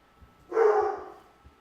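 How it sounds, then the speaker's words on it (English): A single short dog bark sounds in a horror game, one sharp mid-range burst over a quiet background with faint low thuds around it. "Stop barking at the mailman,"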